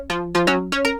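A wide, wavy synth run through the Fruity Flangus flanger in FL Studio plays a short pattern of bright chord stabs with a sweeping, shimmering tone, clean and alone.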